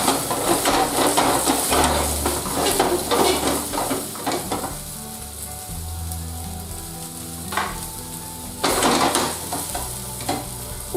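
Meatballs fry and sizzle steadily in an oiled pan while a utensil stirs them, with scraping and clinking bursts near the start and again around the ninth second, close and fairly loud with no talk.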